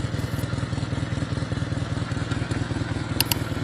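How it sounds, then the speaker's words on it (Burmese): A vintage BMW R32 motorcycle with a 490cc four-stroke engine runs with a rapid, evenly pulsing exhaust beat, loud and close, with a brief click near the end. "BMW R32 ဆိုင်ကယ်ကိုမိတ်ဆက်ပေးခဲ့တာဖြစ်ပါတယ်ဒီဆိုင်ကယ်က 490cc 4-stroke engine"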